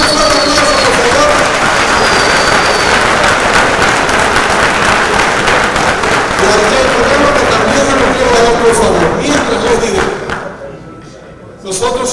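Loud, sustained applause fills a hall at a sports awards ceremony as an honoree, Ricky Hernández, comes up for his prize, dense clapping with crowd noise that fades near the end before briefly resuming.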